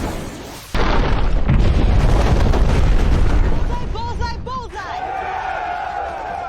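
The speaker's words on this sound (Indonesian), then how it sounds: "boom, pabrik uranium pun meledak" A sudden massive explosion of a uranium factory in Top Gun: Maverick booms in, followed by a long roaring rumble of debris, then whistling tones and a rising high wail as it fades.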